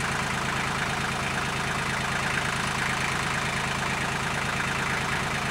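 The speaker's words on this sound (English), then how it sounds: "I've got the tractor in position now." A tractor engine idles steadily in a field during log hauling, producing a constant close, low mechanical rumble with no speech over it.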